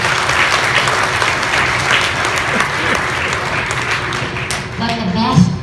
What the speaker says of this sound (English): Clap your hands for you.